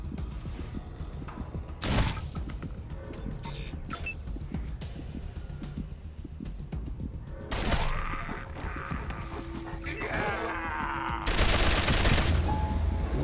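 Gunfire in the video game Wasteland 2 comes as sharp bursts and volleys standing out over a busy mechanical game background, with several loud blasts spaced across the stretch.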